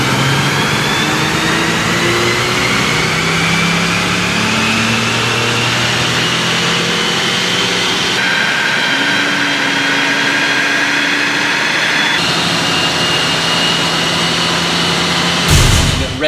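A 2013 Ford Mustang runs on a chassis dyno at about a mile above sea level, its loud engine droning and climbing steadily through the revs, with pitch shifts between gears and a brief burst at the end.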